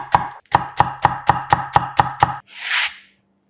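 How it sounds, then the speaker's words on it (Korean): A knife slices through half a green onion, split lengthwise, on a cutting board in nine quick, evenly spaced chops, close and crisp, followed by a soft brushing sweep. "대파 반개를 반을 갈라 쫑쫑 썰어 준비하고"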